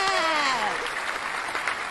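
A theatre audience claps in steady, dense applause before a stage show, heard over a voice speaking at the start.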